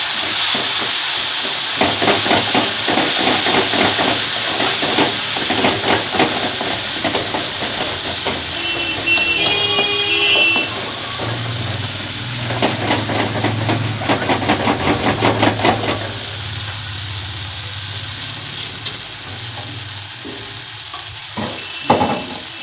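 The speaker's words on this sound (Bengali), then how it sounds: "এবারে এটাকে আমি এই তেলের মধ্যেই কষাবো" Mustard-poppy seed paste fries in hot oil for a pabda fish curry, a loud, steady sizzle and hiss with scraping stirring strokes, easing to a quieter bubble near the end.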